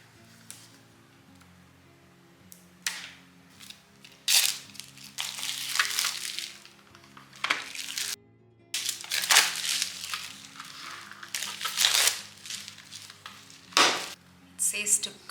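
Caran d'Ache Neocolor II limited edition tin sets being unpacked, with repeated close crinkling, rustling and metallic handling bursts in irregular clusters, separated by short quiet gaps.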